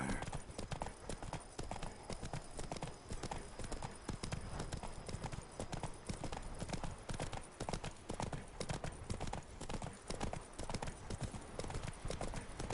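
Horse hooves clip-clop steadily in The Witcher 3, a continuous rhythmic trot running the whole time over game ambience.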